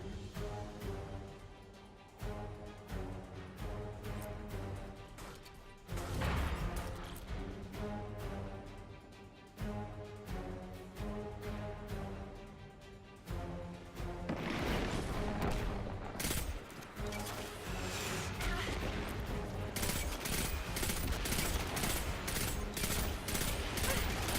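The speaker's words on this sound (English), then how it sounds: "I could hear the explosions all the way back here." Loud, continuous combat in the video game Tale of the Titan Bubble Gum with rapid bursts of gunfire and heavy booming explosions layered over music, dense and chaotic throughout.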